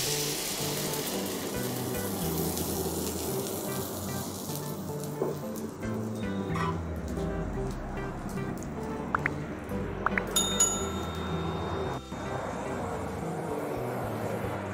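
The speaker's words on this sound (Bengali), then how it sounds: "দুটো ডিম ফাটিয়ে নিয়েছি, এবার এটাকে আমি ভেজে নেব।" Two cracked eggs fry in a pan, giving a faint, steady sizzle and hiss that runs the whole way, with a few soft clinks and taps of utensils and some background noise.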